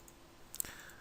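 A single soft computer mouse click, heard close and alone over faint background hiss during 3D modeling work.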